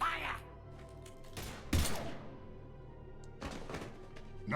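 Mass Effect 3 combat sounds, with a few heavy gunfire bursts and thumps going off at intervals over game background noise.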